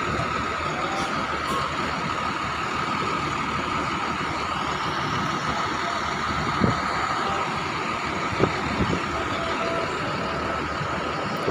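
Buses and trucks sit in a dense traffic jam at a bus shelter whose entry lane is closed, making a continuous loud engine rumble with occasional knocks and faint beeps, and no talk.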